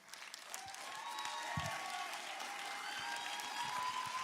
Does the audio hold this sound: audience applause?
yes